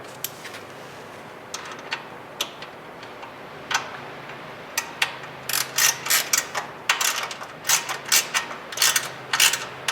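A hand tool ratchets flat head screws snug on a rear fender flare, sparse clicks at first building into quick, close bursts of ratcheting ticks.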